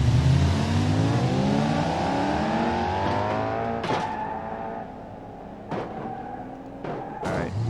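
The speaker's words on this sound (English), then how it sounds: "that blue car ran into the side of this yellow car" Cars in a racing video game roar with rising, sweeping engine tones, then several sharp crunching impacts as one car slams into the side of another.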